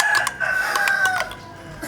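A rooster crows nearby in the Vietnamese countryside, a loud drawn-out call that trails off, with faint clucking underneath.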